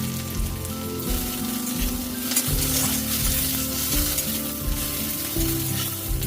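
Curry leaves hit hot oil with lightly fried onions for a semolina dish, a loud, dense sizzle with crackling spits and stirring scrapes, steady and close throughout with no voices.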